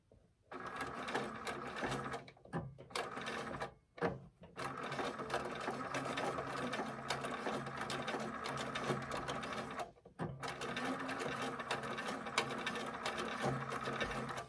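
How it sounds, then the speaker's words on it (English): A sewing machine stitches fabric about an eighth of an inch from the edge while making a bunny bag, humming with a fast, even mechanical rattle close up, stopping briefly a few times and resuming in long continuous runs. "I'm going to stitch about 1/8 of an inch from the edge"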